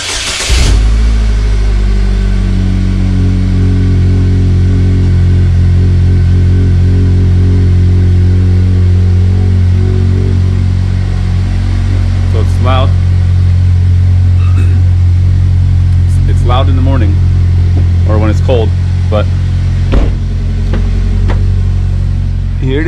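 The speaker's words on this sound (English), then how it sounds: "So here is the cold start." A 2017 GMC Terrain with a K&N cold air intake and Flowmaster Delta exhaust cold-starts abruptly and settles into a loud, deep, rumbling idle that drones steadily, with a few faint higher squeaks over it.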